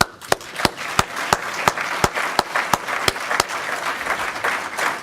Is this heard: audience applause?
yes